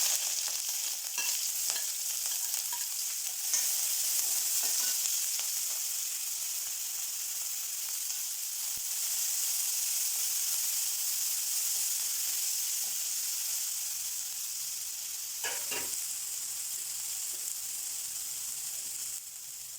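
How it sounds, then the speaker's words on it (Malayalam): Sliced onions sizzle in hot oil after mustard seeds have popped, cooking for chayamansa thoran. A steady close hiss runs throughout, broken by a few faint crackles and stirring touches. "ഇനി ഒരു പാത്രത്തിലേക്ക് എണ്ണ ഒഴിച്ച് കടുക് പൊട്ടിച്ച് സവാള വഴട്ടാനിടാം."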